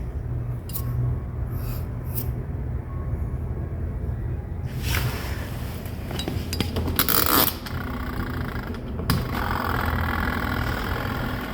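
Ordinary washing machine motor running with its drive belt removed, a continuous motor drone with scraping and rattling bursts partway through and a rise in noise near the end, with no talking.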